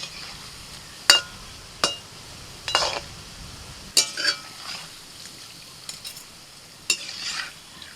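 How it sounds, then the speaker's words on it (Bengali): Palm-fruit fulluri fritters fry in oil over medium heat, giving a low steady sizzle broken by sharp clinks and scraping bursts from a utensil working the pan, close and alone with no talking. "মাঝারি আঁচেতে আস্তে আস্তে ভাজতে হবে।"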